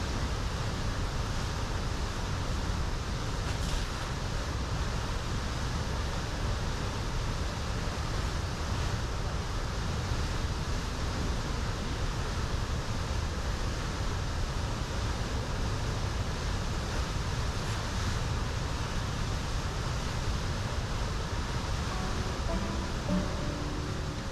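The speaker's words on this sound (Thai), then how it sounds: "จะเห็นว่าเขาสูบ น้ำข้ามถนนสุขุมวิทมา แล้วก็มาปล่อยนะครับตรงนี้เพื่อนำออกสู่ทะเล" Pumped floodwater released from an outlet into the sea beside Sukhumvit Road in Thailand, a loud, steady, broadband rush of falling water that continues unbroken throughout with no voices.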